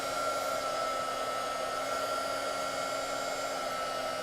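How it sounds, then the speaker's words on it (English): A worn craft heat tool blows hot air for card embossing, a constant close whirring hum with a steady tonal whine that runs the whole time without a break, no talking. "Wow, sounds like my heat tool has had better days."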